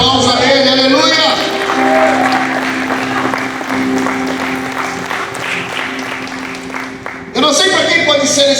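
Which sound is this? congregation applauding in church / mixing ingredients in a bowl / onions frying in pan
congregation applauding in church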